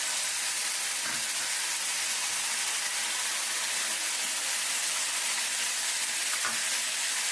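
Tamarind juice poured into a hot pan of bitter gourd curry sets off a steady, loud sizzling hiss that fills the whole stretch, with a couple of faint clinks or stirs underneath.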